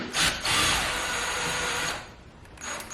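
A power drill runs through a MAEXUS flexible drill bit extension to tighten a fastener, giving a loud steady whir that cuts off and then restarts briefly, close by with no speech.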